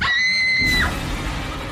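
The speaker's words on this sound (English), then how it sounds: "a blood-curdling scream rips through the night." A blood-curdling scream in the night near an old campus dorm: a short, piercing high-pitched shriek that cuts off abruptly, followed by a lower rumbling background.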